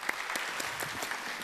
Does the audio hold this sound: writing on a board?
no